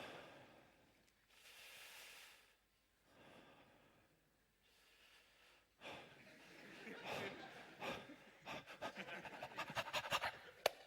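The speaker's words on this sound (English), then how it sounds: "If you would all just breathe along with me with this slide." A conference audience breathing together in a guided breathing exercise, a series of long audible inhales and exhales growing louder and more ragged, with scattered panting, snorts and murmurs toward the end.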